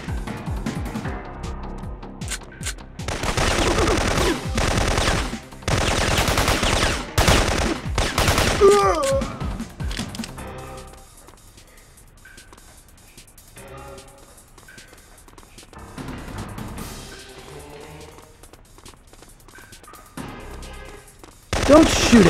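Gunfire in the PlayStation game Syphon Filter, with dense rapid automatic bursts early on, then quieter stretches with sporadic shots and game sounds, and a final loud burst.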